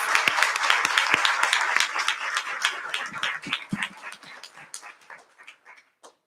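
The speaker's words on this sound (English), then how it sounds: "So can we give Ms. Wilmering and Mr. Voltry a round of applause?" Audience applause for school Scholar Bowl organizers at an education board meeting, a dense burst of clapping that thins and fades out over several seconds.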